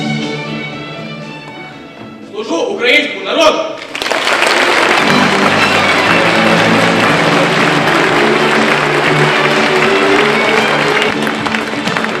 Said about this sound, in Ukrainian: Оплески безстрашним учасникам